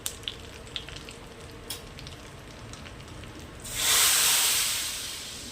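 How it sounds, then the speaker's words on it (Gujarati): Cumin, coriander powder and Kashmiri red chili hit hot oil as a tempering for Punjabi kadhi pakoda: a quiet background hiss swells abruptly into a loud, steady sizzle that then slowly fades. "અને કાશ્મીરી લાલ મરચીનો વઘાર કરીશું."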